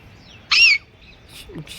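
A parrot lets out one short, loud, harsh screech, followed by fainter chirps from the flock perched outdoors on a hillside.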